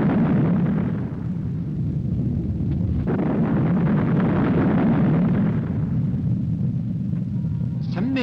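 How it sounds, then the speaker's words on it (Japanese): A deep, loud, continuous rumbling roar of a volcanic eruption on Miyakejima, lasting throughout and easing slightly toward the end. "三宅島の中央にある小山が22年ぶりに大爆発"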